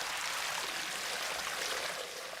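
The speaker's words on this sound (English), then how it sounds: "1, 2, 3, open the sluice gates" Torrent of water released from a tank through opened sluice gates, rushing down a bare hillside at a Roman-style gold mine: a steady, dense broadband roar with no breaks, loud and continuous throughout.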